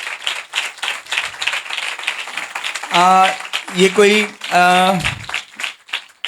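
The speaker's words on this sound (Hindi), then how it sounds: "तालियां बजा दीजिए।" A church congregation at a Friday sermon meeting claps in scattered bursts while someone speaks over and between the applause, his voice rising prominently midway.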